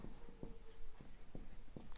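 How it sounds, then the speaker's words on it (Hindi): Chalk or marker strokes on a board during a Hindi grammar lesson, a steady series of short scratchy taps and drags, close and quiet, with no talk. "जैसे मैं एक आपको सिंपल से लिखता हूँ"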